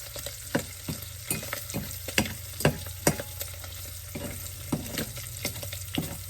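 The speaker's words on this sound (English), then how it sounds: "The most time consuming part is the cooking of the bacon." Bacon frying in a pan for pumpkin soup, a loud steady sizzle close by with sharp crackling pops and scraping stirs recurring throughout, no voices.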